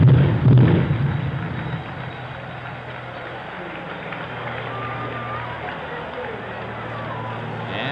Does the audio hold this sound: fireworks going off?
yes